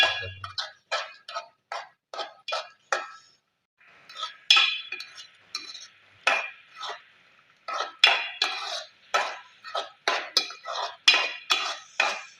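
A spoon stirring egg curry in a pan gives a long run of close, sharp metallic clinks and taps in uneven rhythm, with brief pauses between bursts and no talking.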